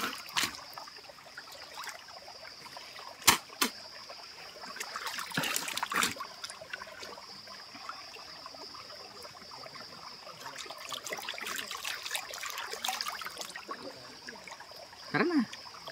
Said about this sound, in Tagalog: Merong batis.